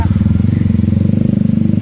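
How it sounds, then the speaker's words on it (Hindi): A Yamaha MT15 motorcycle pulls away with a loud, close, steady pulsing engine note that holds throughout without letting up. "मेरी बाइक लेके भाग गया बादशाह"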